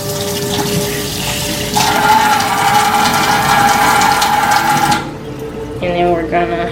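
Tap water runs loudly and steadily as meat is rinsed for cooking, with a steady hiss and splashing under a faint voice. The flow stops near the end, and a few clatters and thumps follow.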